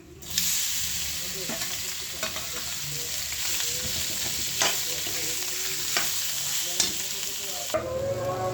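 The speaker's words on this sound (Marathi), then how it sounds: "तेल छान गरम झाले चांगलं परतून झाले आता आपण बटाटे टाकूया" Potatoes tossed into hot oil with ground masala sputter into a strong, steady sizzle, with several clanks and scrapes of a spoon stirring, heard up close without any voices.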